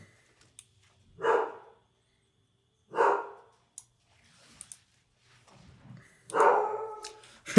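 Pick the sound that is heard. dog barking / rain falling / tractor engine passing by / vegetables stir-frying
dog barking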